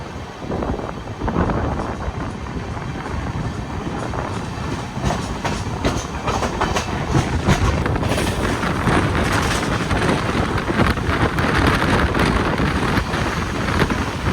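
A Sabari Express train of LHB coaches pulls out of Palakkad Junction, heard from on board with steady rumble, rhythmic wheel clatter and wind noise that grow louder as it gathers speed.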